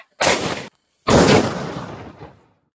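Two loud firecracker blasts go off outdoors near a tribal farming village in Karnataka: a short sharp bang, then after a brief gap a second bigger boom that rolls and fades out slowly.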